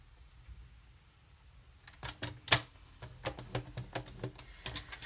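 A paper trimmer scores lines into card stock for a pop-up greeting card. After a quiet start, a run of sharp clicks and taps follows close by, with one louder snap in the middle.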